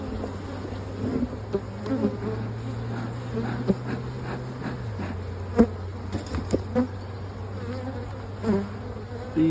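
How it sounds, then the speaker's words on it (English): Close, continuous buzzing of many honey bees at a hive entrance with a low droning hum, individual bees swelling louder as they pass, plus occasional small knocks. "Plenty of bees."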